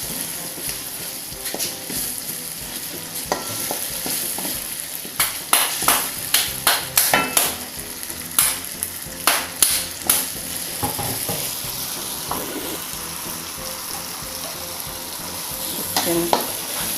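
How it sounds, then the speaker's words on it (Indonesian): Spice paste sizzles and fries in a pan, with a run of sharp scraping stirs in the middle and steady crackling throughout. "proses menggoreng bumbunya"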